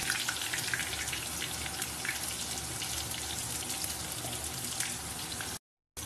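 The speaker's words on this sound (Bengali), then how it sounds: "আর বাটির মধ্যে একটু আমি জলও নিয়ে নেবো।" Water poured into a bowl of ground onion paste while cooking, a steady close splashing and trickling that runs continuously for about five and a half seconds before cutting off.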